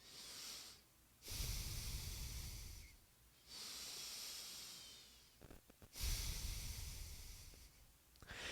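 Slow breaths drawn in through the nose and let out in long exhales, in steady cycles with short pauses between them, close and clear with no talking.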